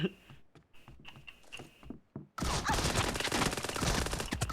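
PUBG Mobile gunfire: sparse shots and clicks give way to a sudden dense, loud burst of rapid fire that continues to the end.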